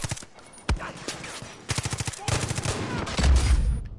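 Gunfire and rockets in the video game Far Cry 5: scattered sharp shots, then rapid automatic bursts building into a dense barrage with a heavy low blast near the end.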